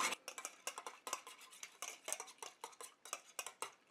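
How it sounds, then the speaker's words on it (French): A spoon briskly stirring MSM powder into water in a small container for an anti-itch cream, rapid rhythmic clinks and scrapes against the sides, close and fairly quiet with no voices. "Je viens rajouter mes 5 grammes de MSM à mon eau et je mélange."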